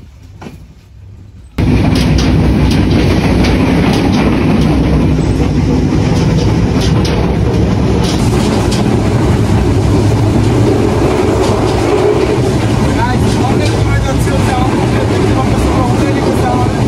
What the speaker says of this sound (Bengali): আমাদের ট্রেনও জোরে শুরু করে দিচ্ছে এখন।